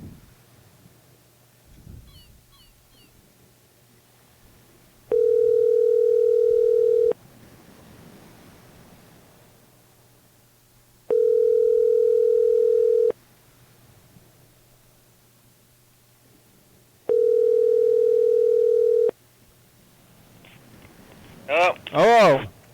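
Three long ringback tones of a phone call to a grandmother's home line, each about two seconds and evenly spaced several seconds apart, steady and fairly loud over faint room hum, followed by a voice at the end.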